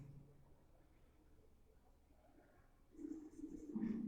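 Pen scratching out numbers by hand, faint and close, with a slow soft scraping that grows a bit louder near the end.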